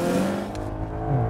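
A Maserati's engine roars loud and close as the car accelerates, a thick rising drone with a brief click midway and the pitch climbing toward the end.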